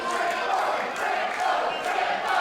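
Dense wrestling crowd noise during a title match, a steady wall of cheering and shouting held at an even level throughout, with no one speaking over it.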